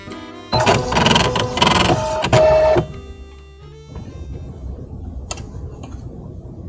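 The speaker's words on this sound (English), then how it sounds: "the first thing that it's going to do is stitch an outline stitch" A Bernina embroidery machine stitches an appliqué outline with a loud, busy mechanical whir for about two seconds, then settles into a quieter, steady stitching hum with occasional light clicks.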